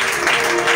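Church congregation applauding during a service, a dense, steady wash of clapping from many hands, loud and close throughout the short burst.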